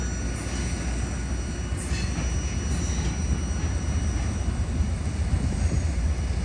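A short line freight train rolls past close by, its steady broadband wheel rumble continuous and loud, with faint high squeals from the wheels now and then.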